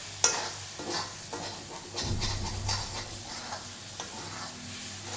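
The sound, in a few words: sautéing crushed raw garlic in oil for pickle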